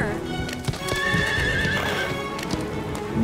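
A horse named Chili whinnies loudly in a storm, its hooves clip-clopping in a steady rhythm close by, the neighs rising over the hoofbeats.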